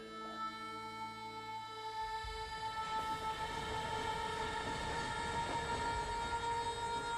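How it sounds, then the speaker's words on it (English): Steady rolling rumble of a train moving along the rails in the Red Dead Redemption video game, with sustained tonal whine and clatter continuing throughout, fairly loud and close with no talking. "We're gonna ride the train."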